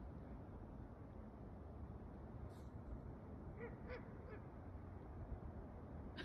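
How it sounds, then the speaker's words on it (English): A duck call quacks a few short times outdoors, faint and distant over a constant low background roar. "Some kind of duck call or something."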